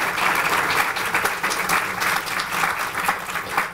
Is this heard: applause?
yes